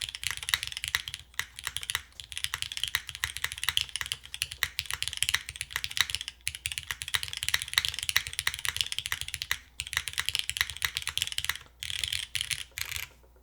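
Continuous close-up typing on a Gundamhaku mechanical keyboard fitted with lubed 3203 switches, a fast, steady patter of clacky keystrokes with brief pauses between bursts and no voices.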